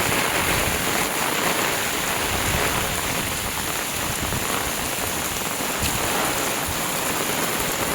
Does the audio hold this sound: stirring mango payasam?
no